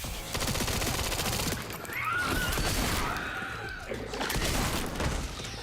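Loud gunfire rattles in a video game: dense, rapid bursts of shots that continue almost without a break, with a short lull partway through.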